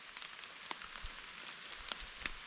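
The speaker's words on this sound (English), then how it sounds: "But it is raining, and there was more than a slight breeze just a little bit ago." Rain falls outdoors on a late-autumn hunt in the woods, a faint steady patter with a few scattered sharper drops, quiet and distant with no talk.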